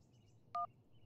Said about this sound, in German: Handy klingelt.